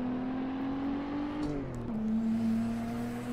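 Turbocharged car engine in the Assetto Corsa racing game, a steady loud drone that climbs, dips briefly at a shift, then settles into a lower hum, with no talk over it.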